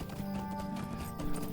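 Horse hooves clip-clop in a steady quick rhythm as a mount rides along in Lord of the Rings Online, close and clear over a soft musical background.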